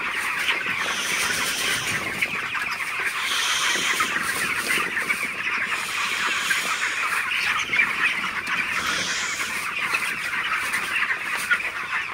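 A flock of broiler chickens inside a poultry shed, many birds clucking and chirping at once in a constant, busy chorus that swells and eases slightly, with no voices.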